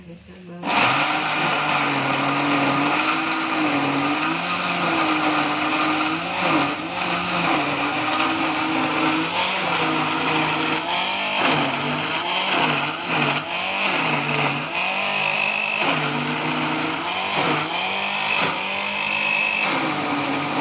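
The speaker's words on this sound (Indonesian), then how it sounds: "Selanjutnya, sambil menunggu ikannya dikukus, kita haluskan bumbu-bumbunya." Electric blender grinding spice paste for Nile tilapia fish floss, a loud continuous whirring drone with a shifting pitch that runs nearly the whole time, with a voice talking faintly underneath.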